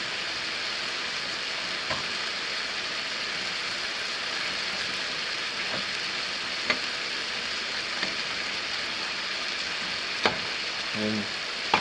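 A flour roux cooks in a pan and gives a constant soft sizzle. A spoon scrapes it now and then, and a few sharp clicks and knocks sound near the end.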